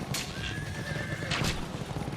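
A horse neighs shrilly in the video game Ninja Gaiden Sigma, with hooves clip-clopping underneath and a second whinny rising near the end over steady game ambience.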